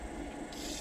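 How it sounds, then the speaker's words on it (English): Flat lap 800 grit wheel grinds against an agate pendant during polishing, a steady close abrasive rubbing hiss with a low rumble, continuous and without talk. "using the 800 grit wheel, flat lap, to just polish and finalise this beautiful agate pendant"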